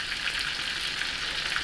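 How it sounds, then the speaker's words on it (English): A ribeye steak sizzles steadily in a hot pan as its second side browns, a dense, even, close frying hiss with no voices. "all I'm doing right now is letting the other side brown up"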